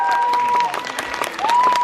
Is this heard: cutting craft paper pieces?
no